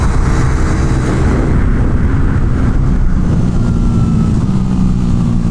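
A motorcycle engine is ridden hard around a lap on a newly bought, unmodified bike, giving a loud, steady drone that stays close and continuous, with no talk over it.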